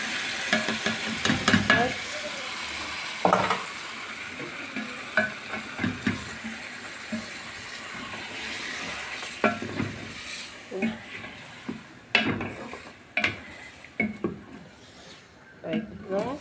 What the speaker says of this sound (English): We are going to add some blended